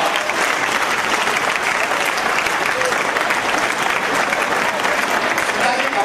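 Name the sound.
audience applause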